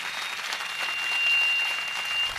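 Applause from a congregation at a church memorial gathering, a soft, even patter of many hands clapping at a moderate distance that swells slightly in the middle.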